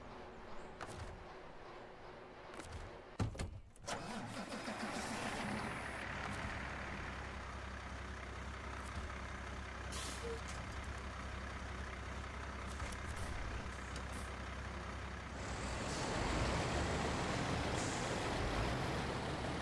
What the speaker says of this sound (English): This truck is really smooth.